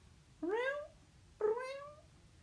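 A voice imitates a cat's meow twice, each a clear rising-then-falling mew about a second apart, close and fairly loud over a quiet background.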